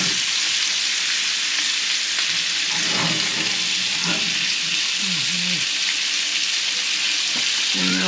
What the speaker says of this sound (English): Pan is nice and hot. Let the butter get underneath